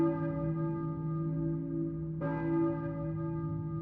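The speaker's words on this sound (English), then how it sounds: "church bell, maybe? Who is ringing that bell? The church." A church bell tolls in the video game Silent Hill 1, one resonant strike that rings on and fades, followed by a second sharper strike with a bright, shimmering, sustained ring. No voices are heard.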